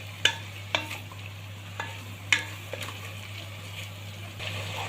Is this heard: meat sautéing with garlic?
yes